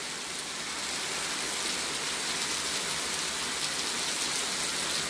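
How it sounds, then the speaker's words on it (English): Heavy rain falls steadily on a stormy day, a dense, even hiss that stays constant and fairly close throughout, with no voices over it. "It's a super duper rainy day."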